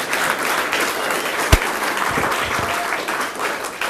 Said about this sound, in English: Really big round of applause for them.